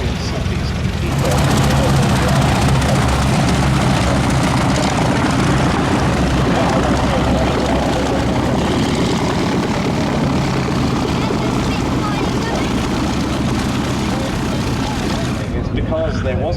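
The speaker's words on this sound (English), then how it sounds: "many thousands of these four-engine heavy bombers" A loud, continuous droning roar of a Boeing B-17G Flying Fortress's four piston engines, a WWII heavy bomber at an air festival, steady and close throughout, fading slightly at the very end.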